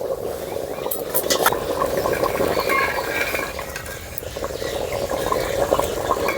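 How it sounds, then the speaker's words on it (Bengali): Mutton simmering in a pot over a village clay stove, the lid lifted and the meat stirred with a spoon, giving a close bubbling sizzle with scraping stir strokes and occasional clinks. "এবার ঢাকা তুলে একটু নেড়ে চেড়ে দেবো।"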